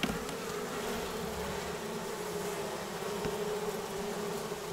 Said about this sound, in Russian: Вот так вот пчелы.